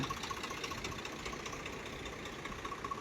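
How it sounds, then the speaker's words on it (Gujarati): A tractor engine idles nearby with a steady, low, knocking rumble, continuous and unchanging, with no voices; the tractor is hitched to a baler on a farm. "જોજો તમે ઘનશ્યામ કેવી રીતના વાળે છે ટ્રેક્ટરને"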